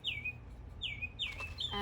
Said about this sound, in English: The bird's singing for us.